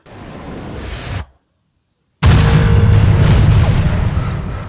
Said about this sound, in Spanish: ¿Entonces esta explosión no es una explosión?